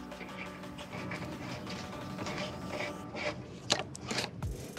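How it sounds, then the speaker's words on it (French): Lambda oxygen sensor on a Fiat Grande Punto 1.4 T-Jet being screwed by hand into its threaded exhaust port, giving a soft continuous metallic rubbing and rasping close up, ending with a few sharper clicks. "Donc là ça s'est vissé pratiquement tout seul jusqu'au moment du contact."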